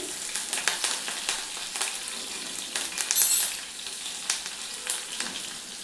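Chopped green chillies and curry leaves fry in a hot pan, crackling and sizzling in bursts with a few faint stirring clinks, fairly quiet and close, with no talking.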